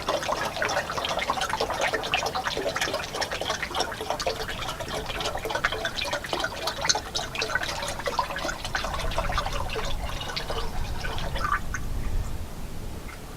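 Dexcool coolant is poured into about half a gallon of water in a jug and mixed, making a continuous close splashing and gurgling of liquid that fades near the end.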